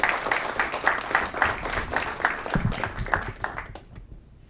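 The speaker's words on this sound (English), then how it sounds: "Let's give Pastor Bedford a round of applause." An audience at a city council meeting gives a round of applause, with a moderate patter of hands that holds fairly steady before gradually fading out.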